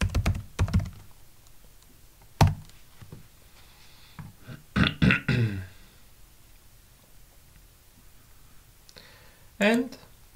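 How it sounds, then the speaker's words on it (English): Keystrokes on a computer keyboard while entering a sudo password during a PhpStorm install on Linux Mint/Ubuntu, a few short clusters of clicks and taps, with a voice speaking faintly in places. "Type your current sudo password."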